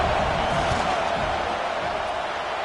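Football stadium crowd at a college game between USC and Rutgers during a field goal attempt, a loud broad roar of massed voices sustained throughout with no breaks.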